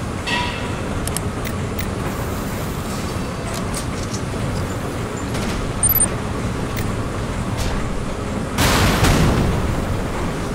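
Offshore bombardment superweapon in Command & Conquer 2013: a continuous dense rumble of distant explosions, with a louder burst of blasts near the end.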